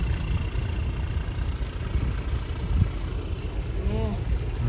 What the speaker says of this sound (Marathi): हे बघा तरी बोट चालली